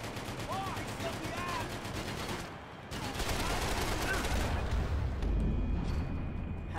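Rapid gunfire from a Max Payne 3 PC shootout, dense bursts of shots crackling continuously with a brief lull near the middle, loud and close throughout, with voices faintly underneath.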